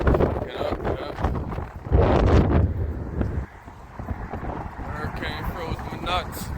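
Strong snowstorm wind in Halifax buffeting the microphone in loud roaring gusts that rise and fall, with people talking over it throughout.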